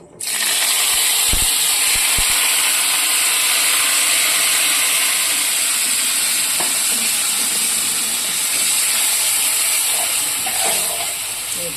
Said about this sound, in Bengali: এই মশলাটা এবার দিয়ে দেবো কড়াইতে।